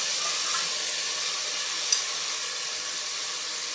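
Water hits a pan of green chili, garlic and ginger paste, giving a steady, even sizzling hiss. It stays close and fairly loud from start to end, with no talking.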